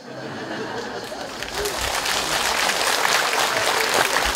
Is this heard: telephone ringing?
no